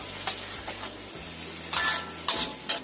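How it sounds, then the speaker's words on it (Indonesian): Fried rice and rice noodles are stirred in a frying pan, giving a low sizzle beneath a few scraping, clattering strokes of a utensil against the pan, close by, over a steady background hum. "Kita aduk rata."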